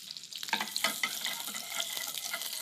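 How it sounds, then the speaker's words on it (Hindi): Onions sautéing in a hot pan, a bright crackling sizzle with scattered pops and stirring scrapes, moderately loud and continuous, no voice. "पहले प्याज, अच्छे से सेक लेता हूं"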